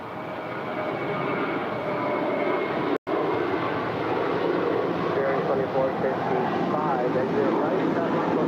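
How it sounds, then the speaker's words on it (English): KLM Boeing 777-200ER arriving at LAX from Amsterdam, a steady moderate jet rumble and whine throughout, with one brief dropout near three seconds. "here we're tracking KLM 603 coming in from Amsterdam on a 777-200 ER"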